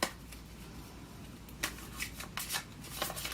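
Tarot cards riffle and snap in quick, crisp bursts, a few separate shuffles close by with no talking.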